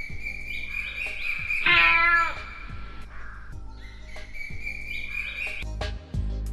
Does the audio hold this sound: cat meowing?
yes